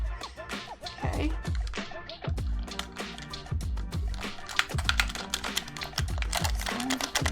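Game controller buttons clack and click in quick, irregular bursts close by, sharp plastic taps that sound much like typing on a keyboard.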